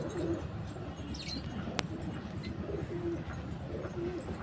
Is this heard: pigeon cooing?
yes